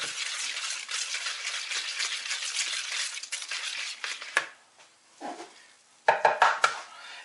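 Raggmunk potato pancake batter with flour being stirred in a bowl, steady scraping and clinking of a utensil for about four seconds, then a pause and a few sharp knocks against the bowl's rim.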